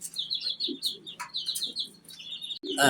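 Pigeons call in close succession, a string of chirping, warbling notes with brief gaps, fairly near, ending in a sudden louder flutter or burst.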